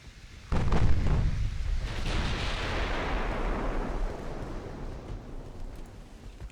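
Heavy naval guns fire in the Ultimate Admiral: Dreadnoughts warship game, one deep booming blast followed by a long rumbling roar that slowly fades, loud and alone.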